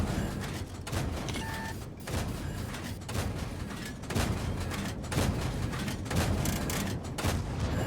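Tank gun fire in a video game, with heavy booming shots repeating in a steady rhythm about once a second over a dense rumbling battle, loud and close, with no talking.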